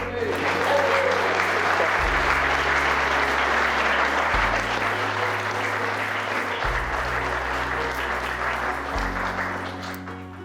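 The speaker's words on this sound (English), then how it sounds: "That's another round of applause." Wedding guests at a farm ceremony break into sustained applause, a dense, even wash of clapping that runs the full length before tapering slightly at the end, with a low musical hum underneath.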